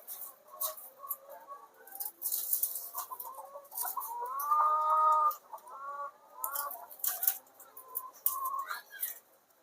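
Chickens on a poultry farm clucking and chirping in an irregular, busy chorus, fairly close, with short bursts and a few longer calls.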